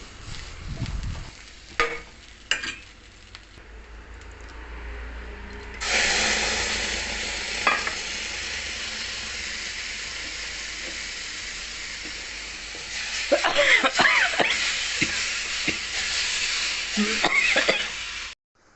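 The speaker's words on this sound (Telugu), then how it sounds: "కొంచెం వేగిన తర్వాత మనం ఉడకపెట్టుకున్న ఈ పప్పుని మునగాకు వేసేసుకోవాలి." Boiled dal with drumstick leaves frying in a hot pan, a loud steady sizzle and hiss rising after a quiet start, with scraping stirs and clinks of the spoon throughout, close up and without talk.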